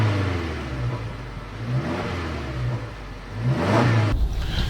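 A 2020 Subaru Outback with a 2.5L engine pulls away, its mid-pitched engine note rising and falling through a couple of gentle revs, close and steady, with no one speaking.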